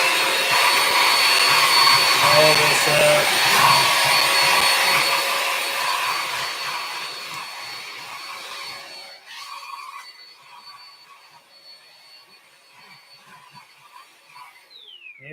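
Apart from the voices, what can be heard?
shop vacuum cleaner sucking up dirt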